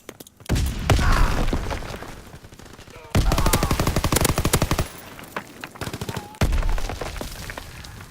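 Automatic weapon fire in the game WW2, three loud, rapid bursts of machine-gun shots separated by short pauses, with a voice talking faintly underneath.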